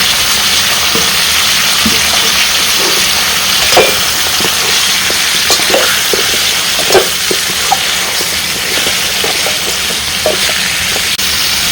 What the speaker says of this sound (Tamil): இப்போ மஞ்சள் பொடி, சீரக பொடி, மிளகாய் பொடி மூணையும் சேர்த்து நல்லா பரட்டிடலாம்